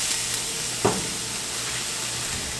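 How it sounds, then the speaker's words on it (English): Broccoli and garlic sizzle in a hot pan, a soft continuous crackling hiss with one brief sharper sputter, close but fairly quiet. "So now I'm going to turn my heat down just a little bit, just to keep that broccoli and that garlic from burning."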